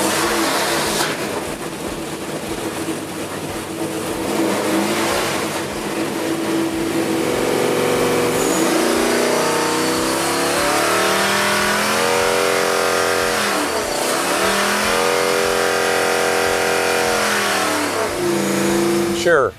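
A naturally aspirated LS3 race engine for TA2 racing revs loudly and steadily, its pitch rising and falling in sweeps, with voices talking over it throughout.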